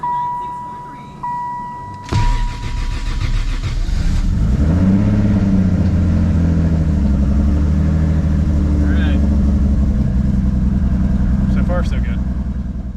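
Toyota 2JZ car engine with new spark plugs cranks and fires up after a short whir, then holds a loud, steady rev with a deep rumble close by.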